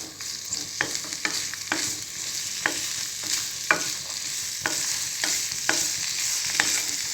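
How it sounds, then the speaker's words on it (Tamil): Manathakkali spinach leaves sautéing in a pan with salt, a steady close sizzle punctuated by repeated sharp scraping strokes of a spatula stirring the greens, with no voices. "நம்ம இதை ஒரு 2 நிமிஷம் பரட்டி விட்டுட்டு அரைச்சிக்கலாம்."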